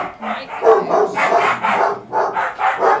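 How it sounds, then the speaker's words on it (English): Dogs bark over and over from neighbouring temples, a run of loud, close, rapid barks with short yips running on without a break and no talk. "I will meditate through the sound of the dogs in the neighbouring temples"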